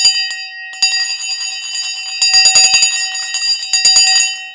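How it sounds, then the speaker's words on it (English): A stock market opening bell rings loudly with rapid repeated metallic strikes, a sustained clanging that runs for several seconds. "All right, the bell has now gone for the morning."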